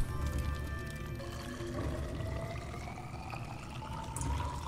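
A water filtration machine in Subnautica runs with a steady low hum and soft, trickling, pouring water texture, faint and continuous throughout.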